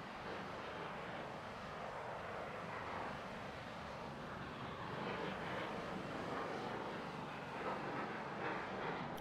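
Fighter jets in the naval strategy game Naval War: Arctic Circle give off a steady, broad jet roar that holds at an even level throughout, with no talking over it.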